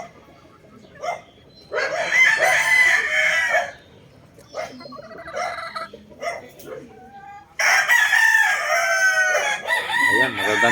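Several roosters crow one after another at a gamefowl farm, loud nearby calls overlapping with fainter distant ones, separated by short pauses and some clucking.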